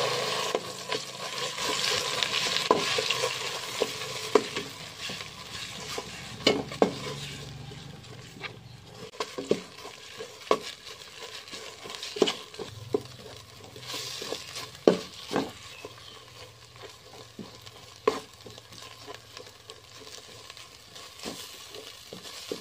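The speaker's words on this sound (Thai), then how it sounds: "เทน้ำมันสำหรับผัดลงไปสักน้อยนะเจ้าเดี๋ยวป้าจะเอาพริกแกงลงมาคั่วมาผัด" Curry paste sizzling in oil in a pan while being stirred and scraped, with intermittent clinks and scrapes of a utensil against the pot.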